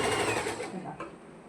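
A sewing machine stitches the facing around a churidar neckline, a close, steady mechanical whirr that runs continuously and gradually eases off toward the end.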